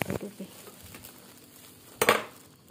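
A lid is set onto a frying pan of food in a home kitchen, giving a sharp metallic clank. A softer clatter comes first, with quiet background noise between the two.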